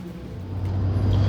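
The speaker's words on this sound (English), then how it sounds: "You can hear the engine groaning." A car engine drones and groans steadily from inside the vehicle while driving, a low continuous rumble rising slightly in loudness over a short stretch, with no talk.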